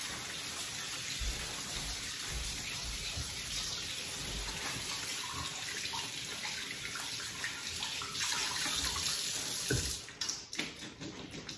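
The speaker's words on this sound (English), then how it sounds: "Run some cold water on those. Stop the cooking and wash off any starch." Cold tap water runs over cooked food in a kitchen to halt cooking, a steady broadband splashing rush that swells louder and breaks into clattering near the end.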